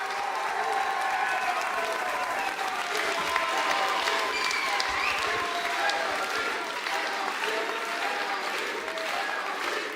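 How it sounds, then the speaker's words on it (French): At a left-wing political rally, the crowd gives Clémentine Autain, deputy for Seine-Saint-Denis, a sustained, loud roar of clapping and cheering that lasts ten seconds without a break, with a murmur of voices mixed in. "On l'applaudit bien fort."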